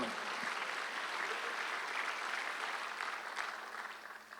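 A church congregation applauds during a Sunday worship service, a sustained wash of clapping heard at a moderate distance that holds steady and then tapers off slightly at the end.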